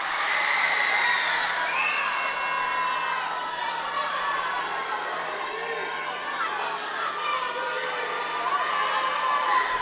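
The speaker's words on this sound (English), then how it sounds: "Lots of cheering by their teammates." Teammates cheer and shout at a girls' high school swim meet, a lively indoor crowd of high-pitched voices whooping and yelling continuously, echoing around the pool.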